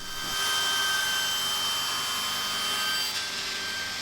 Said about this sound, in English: Then we're going to head over to the bandsaw, cut these out as accurately as we can.